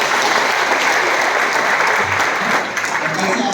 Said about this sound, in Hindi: जो तालियां आज आप इन लोगों के लिए बजा रहे हैं